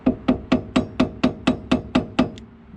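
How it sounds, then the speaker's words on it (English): A hammer strikes a screwdriver to pry a small cap off the rear of a 2001-05 Honda Civic, giving nine evenly spaced sharp metallic taps up close, then one fainter tap. "I want to get a screwdriver"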